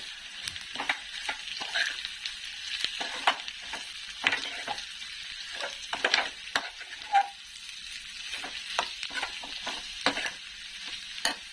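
Beetroot fries in a pan seasoned with chili powder, giving a steady close sizzle broken by repeated scraping stirs of a spatula over about eleven seconds, with no talking.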